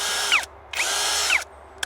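A Grosser 16.8-volt cordless screwdriver runs in two bursts, each a loud whining motor spin with pitch swoops as it speeds up and slows, separated by a short pause and ending with a brief click.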